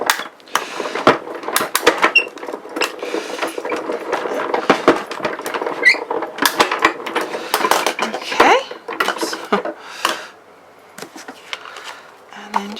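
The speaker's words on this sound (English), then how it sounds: "pop it through the machine" Sheet of card pressed through a manual die-cutting machine, giving a steady run of crunching, clicking and rattling mechanical sounds up close for several seconds, dense at first and thinning near the end.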